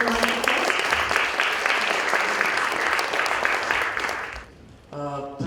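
An indoor audience at a talk applauds the speakers with dense, loud, sustained clapping that fades out toward the end, followed by a brief bit of speech.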